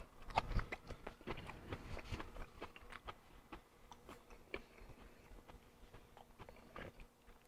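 Someone bites and chews through crispy-skinned salmon, giving a sharp crunch at first and then a steady run of soft, close crackly chewing clicks.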